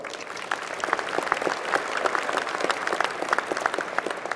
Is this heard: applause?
yes